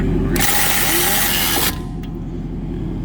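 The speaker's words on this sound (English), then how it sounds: "so we got our trusty ratchet here" Hand ratchet clicking briskly on the front brake caliper of a 2016 Mercedes-Benz GLC300, a dense close run of metallic pawl clicks for about a second and a half, then a steady workshop hum with no talk.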